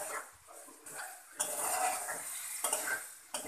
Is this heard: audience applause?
no